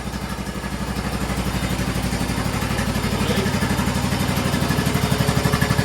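A Craftsman LT1000 lawn tractor's replacement engine runs steadily up close, loud and chugging with a rapid even pulse, slightly rising in intensity.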